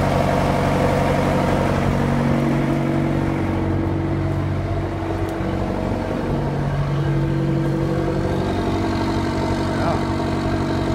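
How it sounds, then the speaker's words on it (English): A meaty CTR motor runs at a steady, loud idle throughout, its low rumble unbroken and up close. "It's a pretty meaty sounding motor."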